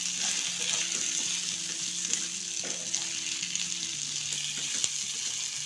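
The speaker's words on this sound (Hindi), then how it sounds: "अब इनको चलाते हुए 1-2 मिनट और भून लेंगे।" Potatoes and onions sizzle steadily in a pan over a low flame while being stirred, a soft continuous frying hiss with occasional scraping clicks.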